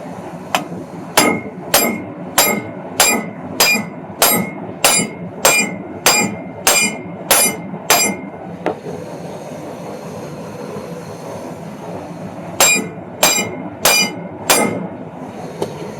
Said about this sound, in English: you take your hammer, you're going to tap it right there on that little crossbar